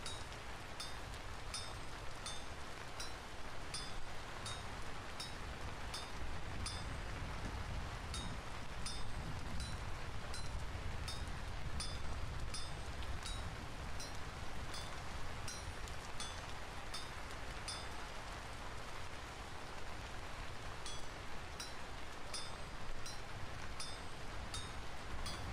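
Steady rainfall in the Vintage Story video game, a soft continuous patter with faint rhythmic metallic clinks of smithing ticking throughout, fairly quiet and with no voices.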